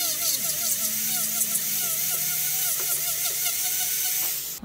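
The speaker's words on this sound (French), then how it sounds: "Et je vais venir dégrossir l'ongle parce qu'il y a vraiment une surépaisseur ici avec ma ponceuse." An electric nail sander files down a thick resin nail, giving a steady high-pitched whir with slight wavering as pressure shifts against the nail, close and fairly quiet, with no talking.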